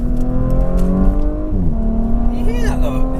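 New Audi S5 accelerating hard, its engine pulling steadily with a rising whine layered over a loud, continuous drone, with a brief swoop of pitch near the end.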